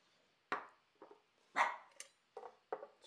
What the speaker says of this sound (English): I got barked at.